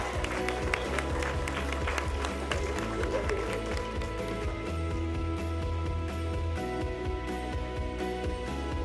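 Audience applause at an award ceremony for an education day, a steady wash of many hands clapping throughout, fairly loud and continuous with some crowd noise mixed in.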